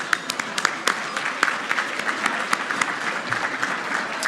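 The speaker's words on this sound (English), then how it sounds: "if we can give her a round of applause." Applause from the audience at a business awards evening: sustained, fairly soft clapping from a hall full of people, with sharper individual claps standing out now and then.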